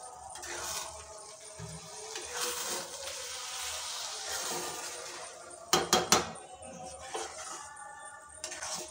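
Pulao rice being stirred with ghee in a metal cooking pot, giving soft scraping and clinking of a spoon against the pot, with a few sharper knocks near the end; no one speaks.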